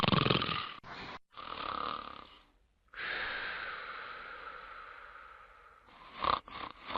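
Loud, rasping snores drawn out in long breaths, close up, with a short gap and snorting catches near the end.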